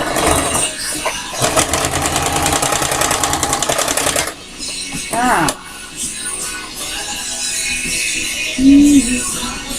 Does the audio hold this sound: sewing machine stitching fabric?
yes